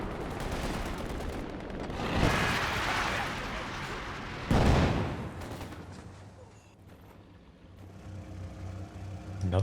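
Gunfire and explosive mortar fire from the video game Company of Heroes 2, loud bursts at around two and four and a half seconds over continuous battle rumble, easing off later, with no speech.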